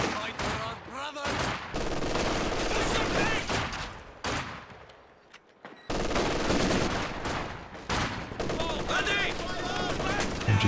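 Maxim machine guns in a Company of Heroes 2 match fire in rapid, dense bursts and overlap with other gunfire and battle noise. A commentator talks over it, and there is a short lull in the middle.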